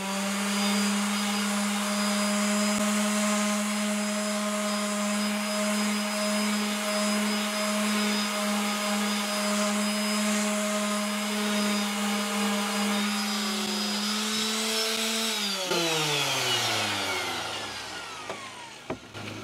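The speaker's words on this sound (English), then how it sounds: "just go over the insides with the orbital. I've got 80 grit on at the minute" An orbital sander fitted with 80 grit paper works over the insides of a wooden box, droning steadily and loudly up close before the motor winds down and spins to a stop near the end.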